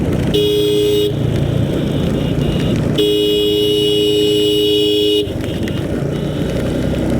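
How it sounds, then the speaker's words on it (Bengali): Vehicle horns honk on a tree-lined forest highway from Bandarban to Cox's Bazar busy with motorbikes, two long steady blasts, the first about 0.3–1 s and the second about 3–5 s, loud and close over continuous road and engine noise. "তো হর্ন দিয়ে দিয়ে চলতে হবে নাইলে কিন্তু ঝামেলা আছে"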